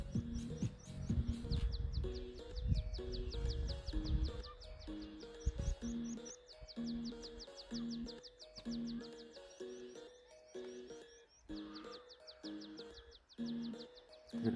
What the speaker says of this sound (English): Hear the birds.